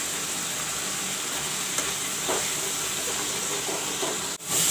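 Spiced masala with chili, coriander and cumin powders fries in a pan, a steady close sizzle and hiss holding throughout, with a brief clatter near the end.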